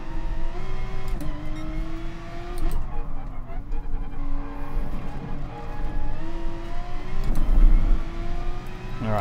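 Race car engines and tyres in the GT Sport video game on the Nordschleife, a loud continuous engine drone rising and falling through gear changes, with brief tyre noise, under someone talking.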